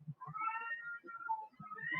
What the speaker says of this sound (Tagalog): Naku, yung pusa sa kabilang humaharot na naman.